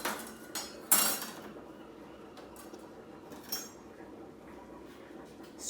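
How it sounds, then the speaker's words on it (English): A knife's back scraping chopped garlic and parsley across a chopping board: a few sharp scrapes and clinks up close, the loudest near the start, then quieter scattered scraping over low room hiss. "Scrape with the back of the knife."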